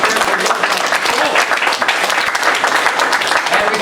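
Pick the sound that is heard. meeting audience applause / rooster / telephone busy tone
meeting audience applause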